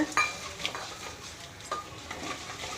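Curry leaves and peanuts roasting in a pan, a soft sizzle with light scraping and clinking of a spoon stirring, close but quiet and brief.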